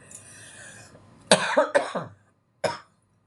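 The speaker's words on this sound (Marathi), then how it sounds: "खोकलेले मला" A person coughs up close, a cluster of three or four harsh coughs followed after a short pause by one more, with faint background murmur before.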